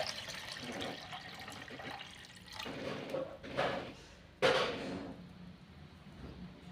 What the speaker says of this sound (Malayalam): ശുദ്ധജലം ഒഴിച്ചു കൊടുക്കാം